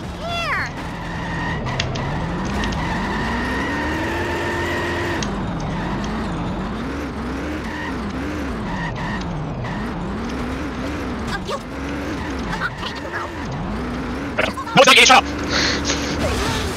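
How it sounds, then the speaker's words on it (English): Cars driving in The Simpsons Hit & Run video game, a steady engine drone that rises and falls with a few skids and squeals, with game effects layered on top. "Now we gotta go drive to Mr. Burns Casino"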